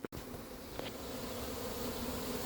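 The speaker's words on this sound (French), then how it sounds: "Il y avait des abeilles dans l'herbe, donc je souffle dessus et elles rejoignent le carton." A honeybee swarm being gathered into a cardboard box during a swarm capture outdoors, a steady, faint, continuous buzzing hum of many bees with a brief knock at the start.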